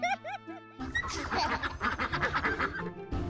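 A burst of rapid, nasal duck quacks over cartoonish music, loud and busy, following a short musical phrase at the start.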